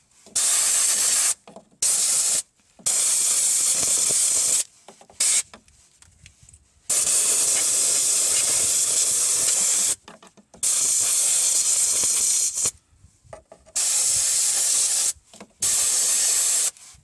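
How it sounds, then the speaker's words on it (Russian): Compressed air from a blow gun blasts over the fuel filter fittings on a Volvo S60/S80/V70: loud, steady hissing bursts of several seconds each, broken by short silent gaps, close by with no speech. "И я обычно беру пистолет продувочный и вот эти места, где вот эти кнопки, продуваю пистолетом."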